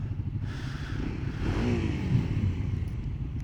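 A 2023 Kawasaki KLX300SM motorcycle engine runs with a steady buzzing drone and a brief rising rev in the middle, heard up close while riding.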